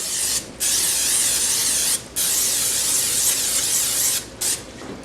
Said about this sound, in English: And then we're going to spray our pan.